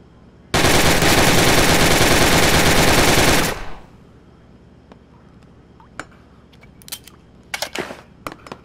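A gun in the Gun Club VR shooting game lets off a loud, close automatic burst of about three seconds, then stops sharply, followed by scattered faint clicks and handling taps.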